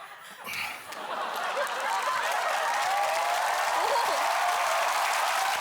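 A studio audience at a Korean TV comedy show claps during a cola one-shot challenge. The applause swells from a softer start into steady, loud, continuous clapping, with scattered chuckles mixed in.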